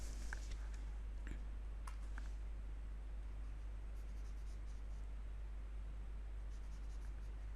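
Straight lines drawn by hand on a surface, faint scratchy pen strokes over a steady low hum, quiet and close with no talk.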